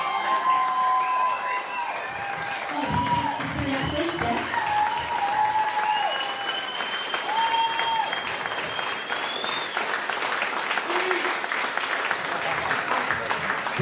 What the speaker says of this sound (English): So can we all please round of applause for our athlete manager, Andrea Steve.